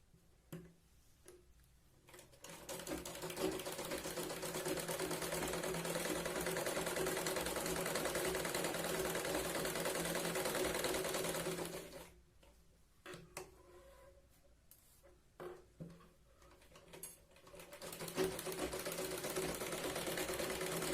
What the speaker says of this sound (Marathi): अस्तर ठेवल्यानंतर आपण अर्धा इंच जे एक्स्ट्रा घेतलंय त्याला व्यवस्थित घेत आपण इथे स्टिचिंग करणार आहोत.